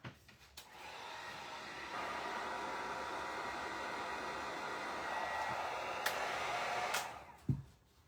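A hair dryer blows to dry burnt umber paint on a rustic wooden DIY sign, a steady close whooshing hum running for about six seconds before clicking off, with a few knocks around it and no talk.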